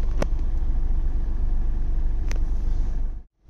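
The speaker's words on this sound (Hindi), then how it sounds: "सामने जा रहा है मालगाड़ी, देखिए ना कितना धीरे धीरे जा रहा है।" A slow freight train rumbles past a level crossing near Abhayapuri, a steady loud low drone with a couple of sharp clanks before it cuts off abruptly.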